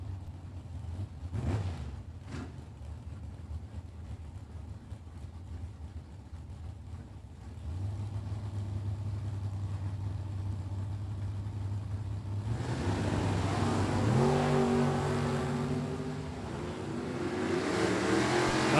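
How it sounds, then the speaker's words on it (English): Drag racing cars, including a Camaro, accelerate down the strip at a Super Pro event, a distant engine drone building into a louder, rising roar in the second half. "Chris G coming up in right-hand lane. And Tom Bueller's Camaro left-hand lane"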